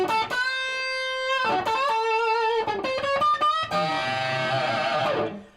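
Electric guitar played through the number 2 pickup position, strummed chords and single notes ringing clearly with sustained harmonic tones, alone without talk, loud and close.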